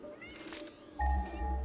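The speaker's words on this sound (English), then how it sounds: "Go away, cat." A cat in the factory-building game Satisfactory gives a short, faint meow over a soft low hum, a single brief call.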